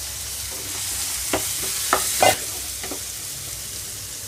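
Beetroot pieces stirred into kurma in a pan: a low sizzle with a few distinct scraping strokes and clinks of a spoon against the pan, close and moderately loud, no speech.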